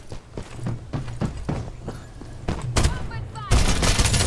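Shotgun blasts in the battle royale game Farlight 84: a rapid series of sharp, loud bursts under a player's talk, heaviest toward the end.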